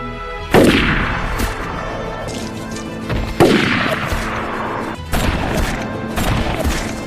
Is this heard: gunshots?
yes